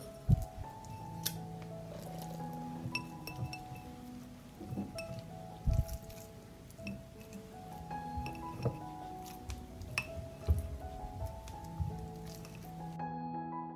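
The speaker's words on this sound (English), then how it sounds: "I will fill the jars with meat." Meat being packed into jars, heard as soft, wet squishing and pressing with occasional light glass clinks, close and quiet, irregular throughout.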